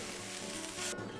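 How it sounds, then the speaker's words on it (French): Fish fillet, sea bream, browning over the heat in a pan with garlic, ginger and onion, giving a steady close sizzle with a brief stirring shift near the end, no talk. "On va mettre le feu en dessous. On va laisser roussir très bien."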